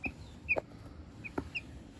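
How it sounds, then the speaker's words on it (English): A Light Brahma cockerel gives soft, short clucks, a few quiet calls spaced across two seconds with faint background noise. "that's the little cockerel"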